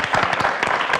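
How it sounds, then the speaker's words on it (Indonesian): A studio audience claps briskly for one second, dense and close, with a faint voice underneath. "Boleh dikasih tepuk tangan ya"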